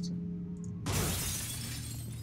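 Glass shatters once in the PC game Shadow Warrior: a sudden loud crash after a quiet tonal hum, followed by a long bright spray of tinkling shards that fades slowly.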